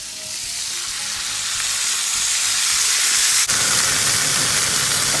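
Meat being reverse seared in a hot pan, a loud close hiss of sizzling that swells and stays dense, with one brief sharp knock partway through.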